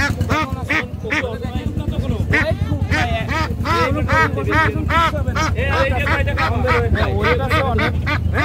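Local domestic ducks at a market quack loudly and close by in rapid, overlapping bursts that run throughout, while people talk among them.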